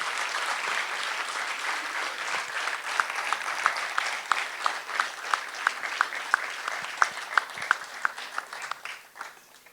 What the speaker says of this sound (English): A big round of applause for the entire group.